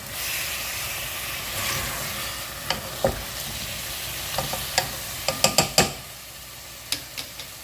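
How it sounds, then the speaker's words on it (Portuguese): Chopped onion stirred in a cooking pot, with a steady soft sizzle and hiss beneath a few sharp scraping clicks and knocks of the spoon toward the end. "Só vou dar uma leve mexida aqui."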